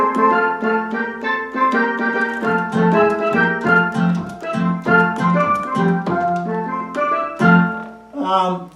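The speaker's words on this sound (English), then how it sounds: "And number 3 is the steel drum." A steel drum voice played on a Roland digital accordion, a quick run of bright, bell-like struck notes in a lively rhythmic pattern, loud and close with no talking.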